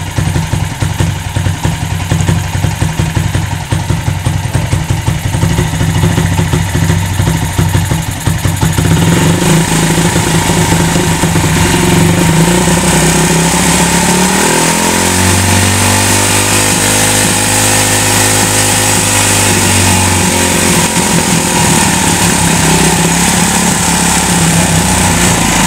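A motorcycle engine rigged as a generator, throttled by hand through its own adjustment screw, runs continuously and loudly, its tone shifting partway through and then climbing as it is revved.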